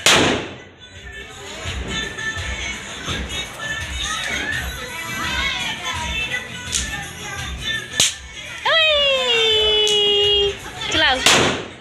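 Diwali firecrackers going off at a home celebration, with several sharp bangs and cracks scattered among busy family chatter, followed by a loud whistling, screeching rocket-type cracker near the end.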